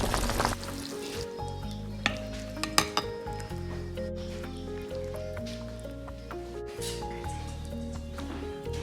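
Scallion-braised tofu being slid from a wok onto a plate, with several sharp clinks and scrapes of a spatula against metal and porcelain over a quiet low kitchen hum.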